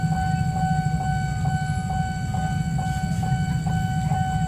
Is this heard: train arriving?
yes